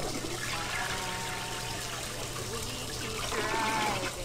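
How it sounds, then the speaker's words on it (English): A toilet flushes in the video game Max Payne 2, giving a steady rushing, trickling swirl of water that carries on for several seconds and swells slightly near the end. "Hey, if I flush the toilet, is she gonna get hot?"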